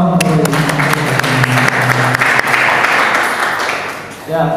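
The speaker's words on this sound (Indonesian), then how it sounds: "Tepuk tangan buat teman-teman." New law students at a university orientation event applaud, with steady, loud crowd clapping that runs under a low murmur of voices and tapers off near the end.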